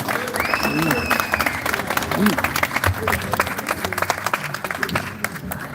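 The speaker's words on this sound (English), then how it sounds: "Let's give her a round of applause." Steady applause from a crowd fills the whole stretch, dense clapping with a voice briefly audible through it.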